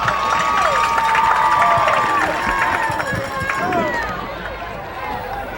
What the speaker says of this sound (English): Pretty good crowd on hand for this NJSIAA championship game in Group 1